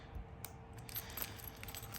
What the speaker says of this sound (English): And then I obviously just stick my keys on the key ring.